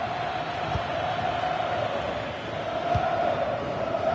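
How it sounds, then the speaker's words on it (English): A stadium crowd in the FC 26 football video game keeps up a steady, dense roar and murmur at an even level, with no clear cheer peaks standing out. "the crowd is certainly trying to motivate the team to push them forward to get the equaliser"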